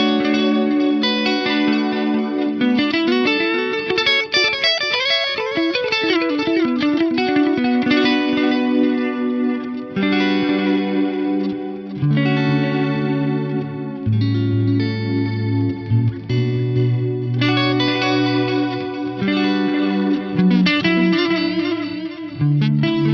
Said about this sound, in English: So we'll turn the phase reverse on.